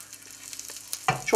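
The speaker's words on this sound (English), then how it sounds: "You hear that little sizzle as they go in." Breaded plaice fillets coated in homemade breadcrumbs hit a hot frying pan near the end, giving a short, close burst of sizzling after a quiet moment of faint kitchen hiss.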